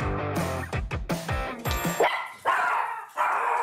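A chihuahua barks at an arriving guest, firing off a rapid series of sharp, loud yaps that turn into higher whining yips toward the end, close by.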